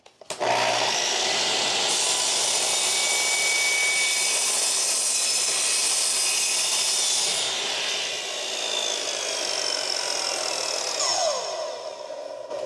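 A power saw cuts through a deck board to form a 45-degree miter for a picture-frame deck border. The loud, steady whine runs for about eleven seconds, dips briefly partway through, then winds down at the end.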